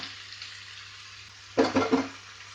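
Goan-style chicken sukka, made without coconut and seasoned with salt, is stirred in a pan over a steady low sizzle, with three quick scraping strokes of a spoon bunched together close by.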